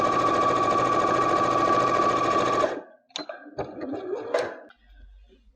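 A sewing machine runs down the seam of a fabric pot holder with a steady, fast mechanical whir, stopping abruptly midway, followed by a few scattered clicks and handling knocks of fabric and machine parts.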